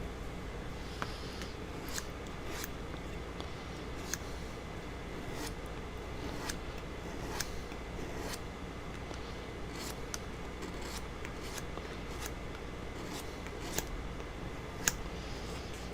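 A pencil sharpener works during a servo skull model build, giving a soft continuous grinding rasp with sharp clicks at fairly regular intervals, close and moderate in level, with no talk.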